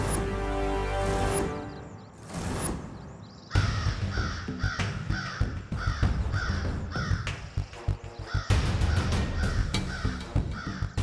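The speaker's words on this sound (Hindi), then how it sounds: "त्रिनेत्री काक पक्षी।" A crow caws repeatedly, harsh calls coming in bursts at irregular intervals, loud and close, with no talk.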